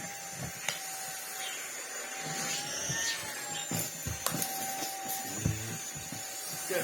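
A Greenote GSC60 cordless vacuum cleaner runs with a steady whine while cleaning a sofa, its hum broken by scattered knocks and scraping from the nozzle moving over the cushions.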